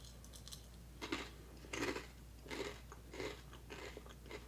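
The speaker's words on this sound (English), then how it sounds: "I want to see how loud my chewing picks up on the mic" Chewing close to a sensitive microphone: a series of soft, evenly spaced crunchy bites, about six in a few seconds, quiet over a low steady hum.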